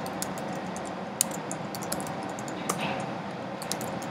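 Quiet clicking of keys as a password is typed on a Mac keyboard, a short irregular series of light taps over a faint background hum, close and soft.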